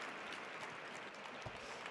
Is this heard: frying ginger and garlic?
no